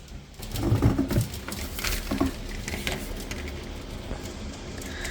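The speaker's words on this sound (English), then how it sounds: "That's hail, by the way." Hail falling outside on a cold wintry day, heard as a dense, steady patter of small ice pellets striking surfaces nearby, with a few sharper clicks early on and no talking.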